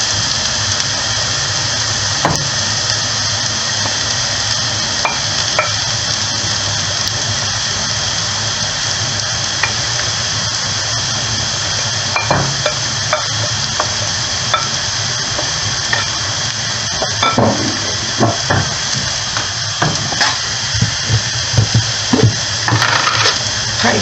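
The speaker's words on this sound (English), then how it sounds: "I'm adding the celery leaves." Celery leaves fry in a pan for rasam, giving a steady, close sizzle with crackling pops and spatters that grow denser toward the end, with no voices.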